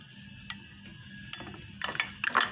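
A spoon stirs a small yeast and sugar mixture in a bowl for odading dough, giving light clinks and scraping taps that grow busier toward the end.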